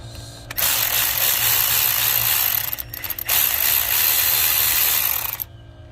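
A handheld speed drill whirs loudly and steadily up close while removing a bolt from the starter of a 2005 Infiniti FX35, stopping briefly midway before spinning up again, with no voices.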